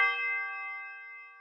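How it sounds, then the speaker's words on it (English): A single tubular bell strike in a slowed-down beat rings out clearly on its own, with a bright metallic attack and a sustained, steady tone slowly fading over about a second and a half. "I have a tubular bell here."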